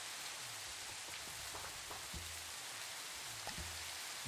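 Rain in the Minecraft video game, a continuous hiss of falling rain with scattered droplet patter, steady and close throughout with no voices.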